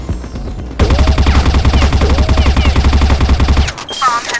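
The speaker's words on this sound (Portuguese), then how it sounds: "Que tiro foi esse" Rapid automatic gunfire in a first-person shooter video game bursts in after a quieter start, a loud rattling stream of shots that cuts off near the end before a few sharper effects follow.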